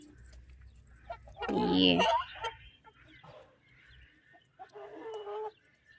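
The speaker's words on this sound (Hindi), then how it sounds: "एक ये भी मुर्गी है, ये चेक करें आप मुर्गी" A hen in a village setting clucks in a loud burst of calls, then gives softer intermittent clucks nearby, with someone talking at times.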